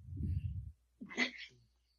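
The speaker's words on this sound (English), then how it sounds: "I just sneezed." A low mumble is followed by a single sharp sneeze up close, then quiet.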